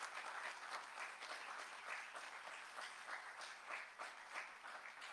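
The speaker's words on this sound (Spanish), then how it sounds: "Por favor, démosle un fuerte aplauso" Steady, dense applause from an audience at an international university education congress, welcoming an invited speaker; continuous clapping with no pauses, fairly soft and evenly sustained throughout.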